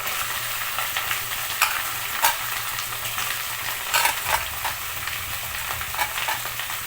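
Ripe tomatoes and curry leaves sauté in a pan for a traditional South Indian chutney, a continuous sizzle broken by irregular stirring scrapes and clicks, close and alone without talk.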